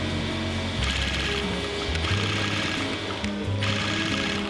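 Industrial sewing machine chain-stitching denim jeans, a steady loud mechanical rattle of needle and gears running continuously with slight shifts in pitch, no voices.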